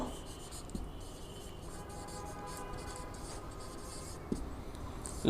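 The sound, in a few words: writing the wavelength formula by hand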